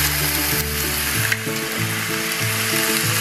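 Chicken adobo sizzles loudly in a pan after soy sauce goes in, a dense continuous frying hiss with faint stirring, close and alone without voices.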